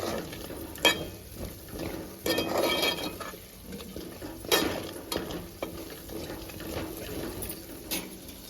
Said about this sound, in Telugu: ఇవన్నీ వేసుకున్న తర్వాత ఒకసారి బాగా కలిదిప్పుకోవాలి